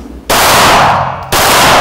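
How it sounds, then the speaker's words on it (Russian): Gunfire from service weapons at a police shooting competition, two loud sharp bursts of shots cutting in abruptly, close and dominant. "Соревнования по стрельбе из боевого оружия"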